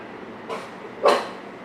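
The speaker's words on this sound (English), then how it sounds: "That's my dog. I have a dog, by the way." A pet dog indoors gives two short barks, a soft one followed half a second later by a louder, sharper one, heard from a few metres away in a quiet room.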